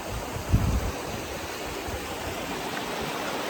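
Steady rushing water roars without a break at Umberkhind, a broad constant wash of a strong-flowing stream with a brief low thump near the start.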